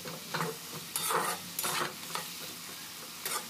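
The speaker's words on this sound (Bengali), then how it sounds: "আলুটা ভালো করে ভেজে নিতে হবে।" Sliced potatoes sizzle in oil in a wok, a soft continuous fry broken by several louder scraping stirs every half second or so, heard up close without any talking.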